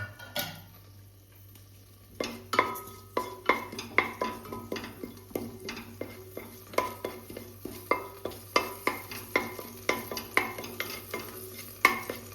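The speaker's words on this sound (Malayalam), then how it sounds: "കുറച്ച് വെളിച്ചെണ്ണ ഒഴിച്ചെടുക്കാം അതിലേക്ക് നമുക്ക് ഈ പെരിഞ്ജീരകം ഇട്ട് കൊടുക്കാം" Fennel seeds fry in coconut oil in a pressure cooker while an egg curry is being made. A soft steady sizzle runs underneath, and a spoon scrapes and taps the pot in a regular, close rhythm.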